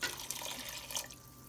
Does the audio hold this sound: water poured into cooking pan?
yes